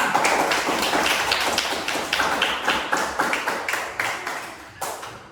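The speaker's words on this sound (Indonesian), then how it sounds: "tepuk tangan untuk kita semua" A class of young schoolchildren at an elementary school claps hands together in a loud, close, fairly steady rhythm for about five seconds, then stops.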